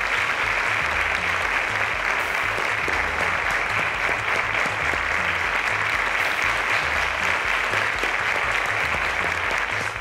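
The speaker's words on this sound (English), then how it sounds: "Ladies and gentlemen, a round of applause to them." Loud, sustained audience applause fills the space, an even roar of many hands clapping without pause.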